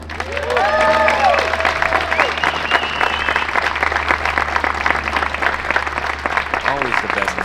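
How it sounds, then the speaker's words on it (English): A crowd applauds the champion of the women's final at the 2025 Konopiště Open disc golf tournament, with sustained clapping beneath a voice talking over it. "All right, crowd, give it up for your champion"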